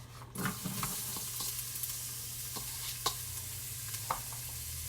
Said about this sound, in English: Now I'm going to add the onion, the garlic, and the ginger and cook for 5 minutes